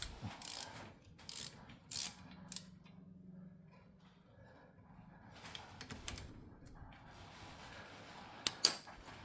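A ratchet turns against the brake caliper bolts on a Mazda CX-5 front brake, giving soft, close clicking bursts separated by quiet pauses, with a couple of sharp metallic taps near the end.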